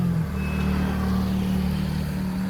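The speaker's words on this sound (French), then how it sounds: "Désolé pour les bruits de voiture" A steady, loud rumble of road traffic with car engines droning nearby, continuous and without pause.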